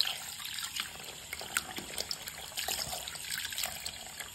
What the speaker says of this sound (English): We just wanna make the water come again.